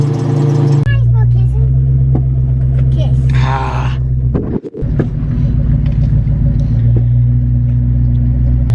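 A car rumbles steadily while driving, with one sharp clunk from the suspension partway through despite newly fitted endlinks. Talk runs over the road noise.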